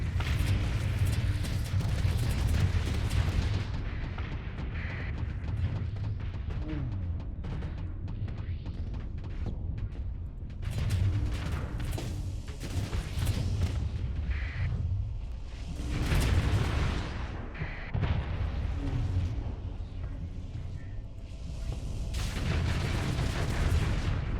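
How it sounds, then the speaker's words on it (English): An artillery barrage in a video game sounds as a rolling series of heavy booms and blasts, loud and rumbling in waves over about twenty seconds. "now if they ever wander even slightly in our direction, we can eliminate them with one barrage"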